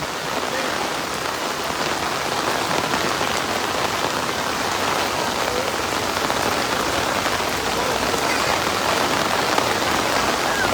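Steady, dense heavy rain pouring hard on a surface during flooding on a Quezon City avenue, a continuous loud hiss of drops with no pauses and no voices.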